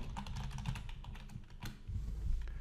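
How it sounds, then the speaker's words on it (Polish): Quick, close typing on a computer keyboard while entering a password during the Revit 2022 educational version installation, an irregular run of light clicks and key taps with brief pauses. "wpisujemy swoje hasło"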